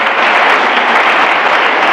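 Steady, dense applause from a church congregation, loud and continuous with no break in the clapping.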